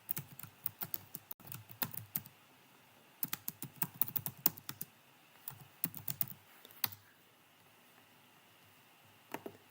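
Bursts of typing on a computer keyboard, quick close clicking in uneven clusters separated by short pauses, with no voice.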